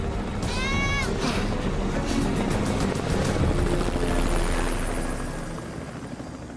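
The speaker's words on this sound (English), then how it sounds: "A search helicopter flies by, almost directly overhead." A search helicopter roars close overhead above a vast desert with a loud, steady rotor drone that slowly thins out toward the end; a brief high whine rises near the start.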